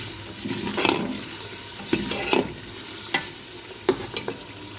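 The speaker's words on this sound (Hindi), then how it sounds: "तकरीबन 10 मिनट मैंने इसकी भुनाई की है" Meat masala for matar gosht is sautéed in a pot. A low sizzle runs under several separate, close stirring and scraping strokes that come at irregular intervals.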